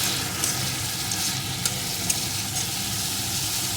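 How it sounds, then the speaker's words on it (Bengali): Spices with turmeric, salt and a little sugar sizzle steadily in a pan for a pointed-gourd dish, with occasional light taps of a stirring spoon and no voices. "এখন সমস্ত মশলাটা সুন্দর করে কষিয়ে নেব"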